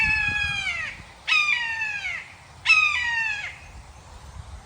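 A bird outdoors gives three loud, harsh, crow-like caws, each drawn out and falling in pitch, spaced about a second apart over a quiet background.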